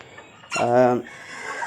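A Colombian Brahma chicken gives one loud, close, drawn-out call lasting about half a second, set against quiet background.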